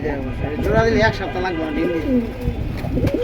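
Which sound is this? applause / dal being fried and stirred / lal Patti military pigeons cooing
lal Patti military pigeons cooing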